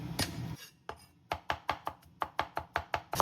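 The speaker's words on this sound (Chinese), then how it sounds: "大蒜的话，我们就拍碎，然后切末。" Crushed garlic is minced with a knife on a board, a quick run of about a dozen sharp, evenly spaced close chops after a few scattered opening strikes, with no talk.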